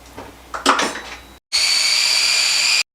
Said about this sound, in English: we're going to blend that until it's smooth. I'm doing it in my food processor.